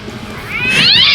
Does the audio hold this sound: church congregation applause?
no